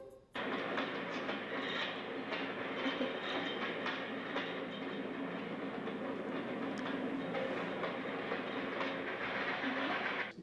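A train in a World War II film rolls steadily along the tracks with a continuous rumbling clatter of wheels on rails, fairly close and even throughout, with no talking.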